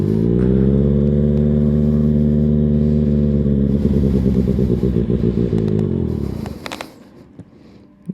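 A motorcycle engine idles loudly and steadily, then bogs down and sputters to a stall, falling silent with a few faint clicks and rattles afterward.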